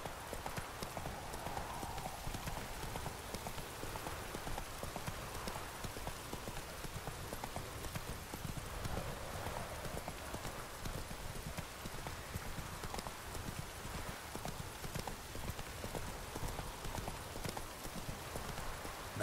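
A horse gallops in The Witcher 3: Wild Hunt, with a fast, continuous clip-clop of hooves and a faint patter like rain behind it, steady and fairly quiet throughout.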